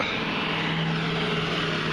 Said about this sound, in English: you're gonna hear some road noise